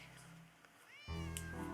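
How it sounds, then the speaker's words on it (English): A cat meows once in the Nancy Drew game Secret of the Old Clock, a rising then falling cry with a bright, tonal quality, after a quieter stretch of soft background sound. "Otherwise, he'll just keep meowing."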